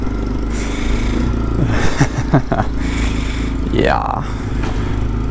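An old X-Pro Templar 250 motorcycle engine starting with the choke pulled, then idling steadily close by with clatter and a rising whine, under some nearby talk.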